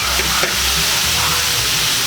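Heart of coconut palm sautés in a hot pan for lumpia filling, giving a loud, continuous sizzle and hiss with faint stirring underneath.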